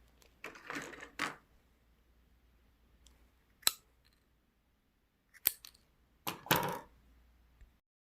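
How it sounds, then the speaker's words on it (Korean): Scissors snipping through a plastic drinking straw, a handful of sharp separate cuts spaced a second or two apart, close and crisp in a quiet room with no voices. "빨대 부분을 이 주름진 데 말고 양쪽으로 1cm 정도 간격으로 잘라줍니다"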